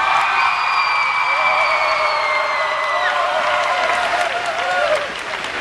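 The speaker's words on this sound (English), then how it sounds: "Let's give the graduates another round of applause." Sustained applause with whoops and cheers from a graduation audience honoring the graduates, a dense, steady wash of clapping that fades slightly near the end.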